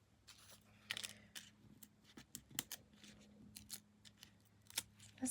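Scissors snip and trim around a paper craft piece with dimensional adhesive, a series of short crisp cuts at irregular intervals, close and fairly quiet, with no talking.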